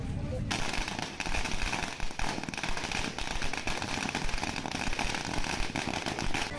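Firecrackers bursting in rapid, dense crackling volleys at an election victory celebration, loud and continuous outdoors, with crowd noise mixed in.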